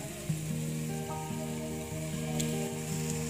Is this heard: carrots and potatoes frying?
yes